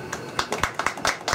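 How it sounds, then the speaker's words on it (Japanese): A small audience at a Japanese all-women comedy improv contest claps briefly to vote for a comedian, a short burst of scattered hand claps mixed with talking. "山田美が良かった方拍手。"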